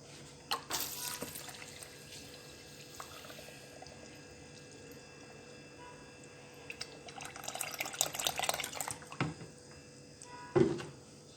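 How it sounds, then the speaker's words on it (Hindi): Milk poured into mango for a mango milkshake, a faint, soft liquid stream and splashing that grows busier toward the end, with a few light knocks. "इसके बाद मैं इसमें दूध डालूँगी।"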